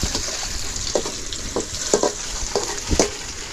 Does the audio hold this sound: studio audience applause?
no